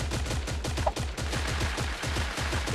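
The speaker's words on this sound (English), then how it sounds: "Uzi shots are coming out." Rapid Uzi fire in Creative Destruction, a fast regular stream of moderately loud shots that continues steadily for nearly three seconds.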